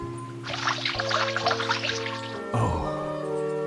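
Water poured from a pitcher, a steady splashing pour for about two seconds, then a shorter gurgling trickle, all under a background music bed with no talk.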